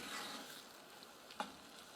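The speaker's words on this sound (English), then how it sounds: "stirring it round every now and then" Vegetable relish chutney stirred in a pan as its liquid cooks down, a soft steady sizzle running throughout with one brief scrape of the spoon near the end.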